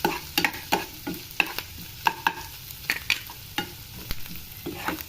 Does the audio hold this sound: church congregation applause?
no